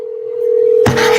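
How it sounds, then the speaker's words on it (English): A steady telephone tone plays loud and alone as a call is placed, then cuts into a brief burst of line noise near the end. "It's ringing."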